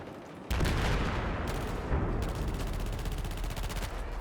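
Rapid automatic hip-fire gunfire in a Call of Duty match, a dense unbroken burst of loud, close shots starting abruptly and continuing to the end.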